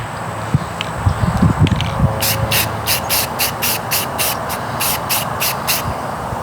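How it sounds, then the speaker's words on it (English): Smoke gray paint is sprayed onto metal shear parts in a shop, in a series of about a dozen short, regular hissing bursts after some brief handling noises. "We're going to go ahead and spray some smoke gray on these parts"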